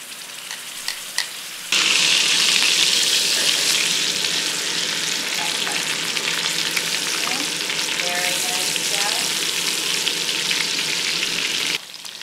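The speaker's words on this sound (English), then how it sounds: "we're going to brown these babies up on both sides before we throw them into the crock pot" A pot roast beef browns in a hot pan before going into a crock pot, with a loud, steady sizzle that starts abruptly and holds close to the mic, broken by light crackles.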